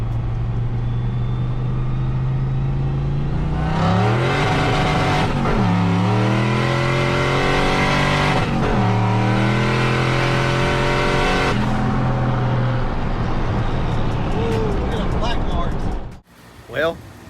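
A turbocharged Ford Foxbody Mustang with upgraded budget street cylinder heads, running 16 psi of boost, launches hard from second gear. The engine roars loudly and climbs steadily in pitch through repeated shift-like drops, then cuts off abruptly near the end.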